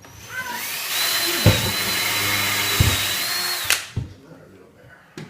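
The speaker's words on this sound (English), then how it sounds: "so I'm drilling the countersink holes" A power drill whirs steadily for a few seconds with a few sharp knocks while drilling countersink holes for alcove shelves, then winds down and stops, followed by a couple of thuds.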